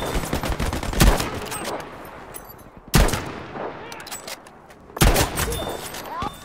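Gunfire from the World War II shooter game Battlefield V, with three sharp, loud shot bursts spaced about two seconds apart over continuous battlefield background noise.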